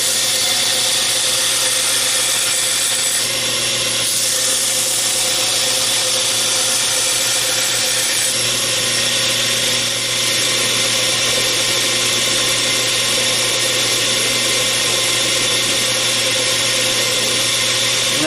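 Steady, continuous whine of a power tool fitted with a small wheel attachment grinding a knife blade, loud and close for the full duration, with a constant hum and no speech.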